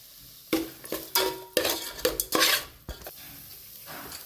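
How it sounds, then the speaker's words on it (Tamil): Chili powder masala sautéed in a pan for a country chicken curry, with repeated clattering spoon-against-pan stirring strokes over a light sizzle, then a quieter tail, no voices. "நம்ம சேர்த்த மிளகாத்தூள் பச்சை வாசனை போகிற வரலும் கொஞ்சம் நல்லா வதக்கிக்கலாம்."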